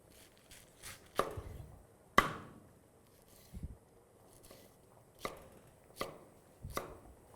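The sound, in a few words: chopping salad vegetables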